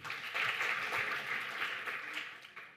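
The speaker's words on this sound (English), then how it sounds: "So please clap for number 1." Audience clapping during a live show poll, a soft, steady ripple of hands heard from some distance, swelling briefly and then fading out.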